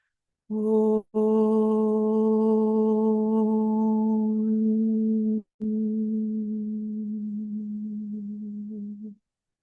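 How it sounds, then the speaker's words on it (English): A single voice chants the mantra Om in the key of C, a steady sustained hum held in two long breaths with a brief pause between, loud and close with no other sound. "Om sounds like this."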